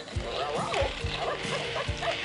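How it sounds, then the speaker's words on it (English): A robot toy puppy that does tricks gives a few short electronic yaps and barks in quick succession, close and fairly quiet, with chirpy tones between them. "And then there's for real Ricky, the trick-loving pup"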